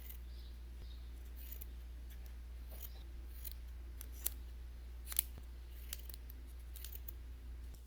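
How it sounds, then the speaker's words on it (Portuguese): Scissors snipping excess yarn from a pompom template while making a children's knitted beanie: a few close, sharp, crisp cuts spaced over several seconds above a low steady hum, with no talk. "eu vou pegar a tesoura, é importante que eles estejam alinhados, e eu vou cortar o excesso de fio que está sobrando do gabarito"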